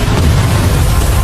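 A huge golden blast erupts as a massive deep boom, loud and sustained, with a dense rumbling roar filling the whole moment.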